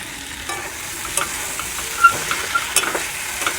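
Fried teasel gourd pieces go into a pan of sizzling spice paste and are stirred, a soft steady fry broken by close, irregular clatters of the spatula against the pan.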